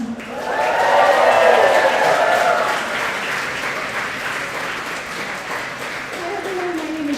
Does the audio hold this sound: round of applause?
yes